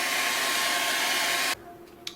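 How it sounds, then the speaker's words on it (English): A hair dryer blows steadily at close range, heating the label on an EPROM chip from an unlicensed NES arcade board, then switches off abruptly, leaving faint handling sounds. "So I got the old hair dryer out here."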